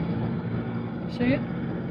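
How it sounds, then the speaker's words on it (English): A large propeller plane flying low overhead gives a steady, low, rumbling drone, with someone speaking briefly over it. "Great big plane there, look."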